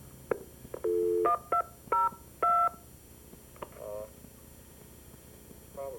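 Telephone keypad tones sound as someone dials to bring a person onto a call, with several short beeps in an irregular rhythm over a faint mains hum.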